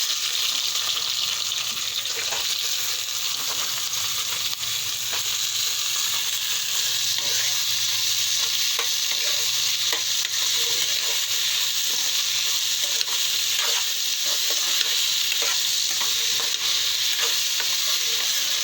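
Bitter gourd (karela) stir-frying in a kadai for a Maharashtrian-style bhaji, with steady loud sizzling and scraping stir strokes running throughout, close and without talk.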